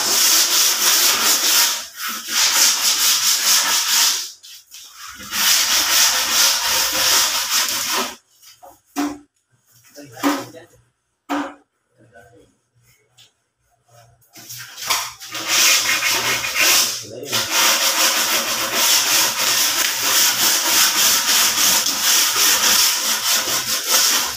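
Hand sanding of a wooden cabinet door before laminating, with long stretches of rough, steady scraping strokes interrupted by pauses and short bursts, close and loud, with no talk.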